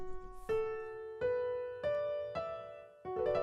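A piano mimics a plucked Chinese string instrument, playing a five-note arpeggio as separate struck notes spaced about half a second to a second apart, each ringing and fading before the next, alone and clear.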